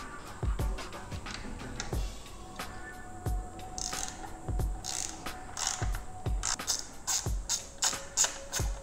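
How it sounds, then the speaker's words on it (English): Wrench loosening 14mm breather bolts on a Harley-Davidson Forty-Eight Special's back plate, giving a series of close, sharp ratcheting clicks and creaks at irregular intervals, fairly quiet with no talk. "the next thing to do is to uninstall the breather bolts that are holding this back plate on"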